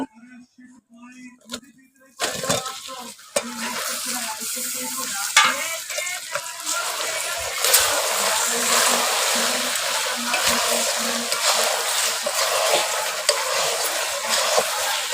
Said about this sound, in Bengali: আমগুলো দিয়ে নেড়ে নেড়ে আমের গায়ে জলটা শুকিয়ে নেব